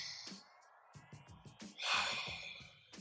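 One deep, deliberate breath is drawn in, a soft, breathy rush in quiet surroundings, with a few faint small noises before it.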